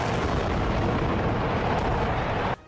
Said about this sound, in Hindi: इस घटना का वीडियो भी सामने आया, जिसमें बिजली घर की चिमनियों में धमाका होता दिखा।